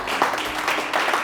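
A church congregation claps in a burst of applause, dense and fairly loud, swelling briefly and continuing through the short stretch.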